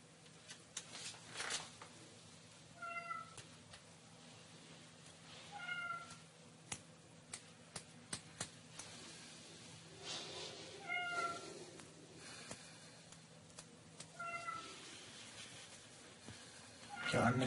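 Several short cat meows spaced apart, a few seconds between each, heard indoors over faint room noise and a low steady hum.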